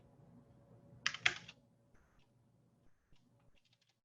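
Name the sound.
typing on a computer keyboard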